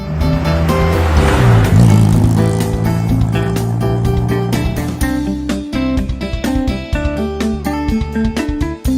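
A classic car engine rumbles loudly for the first few seconds, then gives way to a bright, plinking music track that carries on to the end.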